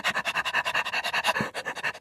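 A human voice imitates a dog panting with quick, even, breathy huffs, about eight per second, close and steady for two seconds.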